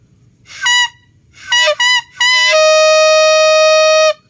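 Buzzy, nasal toots from a homemade coconut-leaf horn, a few short blasts followed by one sustained, steady note held nearly two seconds, close up.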